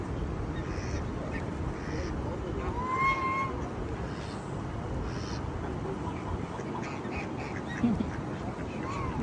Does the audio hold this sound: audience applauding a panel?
no